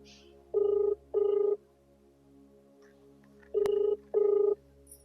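A telephone rings in two double bursts, the electronic trill repeating with a pause between pairs, clear and close in a quiet room.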